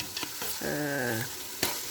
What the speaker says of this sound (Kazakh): пісіп, жұмсарып 10 минуттай майда қайнап осылайша пісті